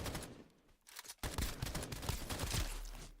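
An STG rifle in the game Escape from Duckov fires in sustained full-auto bursts, a dense rattling clatter after a brief pause, moderately loud with no talk.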